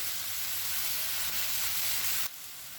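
Chicken pieces frying in a non-stick pan while being stirred, a close, steady sizzling hiss that drops abruptly in intensity near the end, with no speech.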